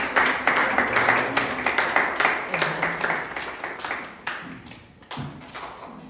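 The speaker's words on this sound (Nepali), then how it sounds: "हामी ताली पठाउँछ" A small congregation gives scattered, uneven applause at a church inauguration, a steady patter of claps that thins out toward the end.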